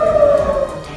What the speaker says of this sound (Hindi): इसके लिए पूरे शहर में तेज आवाज में सायरन बजाए गए